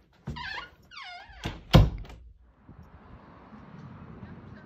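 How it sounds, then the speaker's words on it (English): A door is pulled open and then shut indoors. There are creaking squeaks and then a solid thunk, followed by faint ambient noise. "I'm going to pull open my door and go for a walk and pull it closed on the way out."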